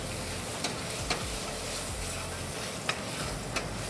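Onions softening in a pan on the heat give a steady, low sizzle with faint stirring and a few soft clicks of a utensil against the pan, close and unbroken throughout.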